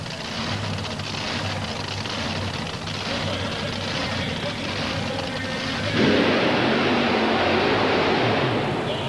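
At a 1990 USHRA mud and monster truck event in Orlando, a monster truck's engine roars steadily as the throttle is nailed, swelling louder partway through as the tires spin, while a commentator talks over it.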